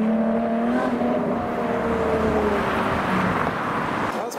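Ferrari supercars, a LaFerrari and a Ferrari 812, pass along a London road, their loud engines droning and shifting pitch in a sustained roar that swells and fades, with a voice briefly audible over it.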